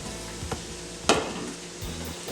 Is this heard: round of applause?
no